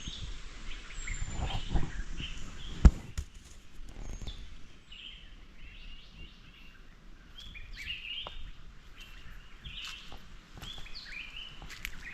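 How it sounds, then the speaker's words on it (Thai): Faint birds chirp and call intermittently in a quiet forest, with soft rustling and a brief thump early on. "บ่อนนี้นี่เสียงนกฮ้องอยู่แซ่เลย"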